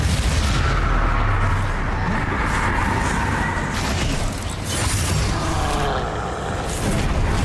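Bombarda explosion spell cast during Hogwarts Legacy gameplay, a loud, dense, continuous blast-like roar with crackling debris that stays intense throughout, no voices.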